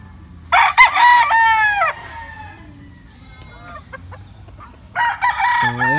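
Escolin White rooster crowing loudly and close on a game farm, two full crows a few seconds apart, with soft clucking from hens in between.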